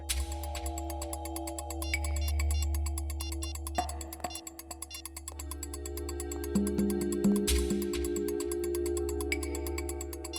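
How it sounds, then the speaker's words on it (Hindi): A mobile phone ringtone plays for about ten seconds in a tense police drama scene, a steady repeating electronic melody with a low background drone, loud and close, with no talking. "फोन लगाओ दया को।"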